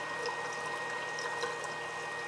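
A SkyTender airplane serving robot dispenses cranberry juice and water, giving a steady, faint hiss of pumped and pouring liquid with no talk.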